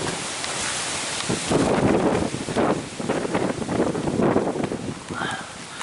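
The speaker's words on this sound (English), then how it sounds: "I think the wind's picking up again" Strong wind gusting outdoors at a roadside stop, loud buffeting across the microphone in rising and falling surges, with a brief faint voice near the end.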